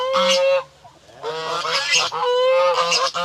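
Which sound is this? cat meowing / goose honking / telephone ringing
goose honking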